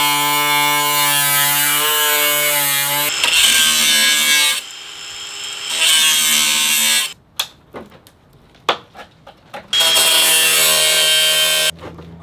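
A power tool grinds through a rusty Porsche 911 steel door, first a long loud whining cut, then a pause with scattered clanks and knocks before the tool roars back in another steady burst.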